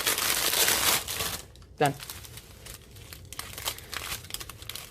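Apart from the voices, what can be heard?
crinkling packaging while unboxing Diamond Art Club kit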